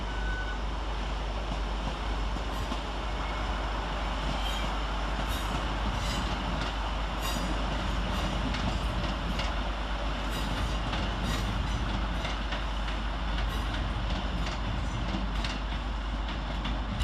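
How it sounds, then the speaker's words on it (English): Northern Class 150 and 156 diesel units, 150130 and 156452, pull away from the far side of Stockport station with a steady loud engine roar and rumble, faint squeals and clanks above, no talking. "Departed over on the far side is 150-130 and 156452 with the 1433 Northern service from Buxton to Manchester Piccadilly."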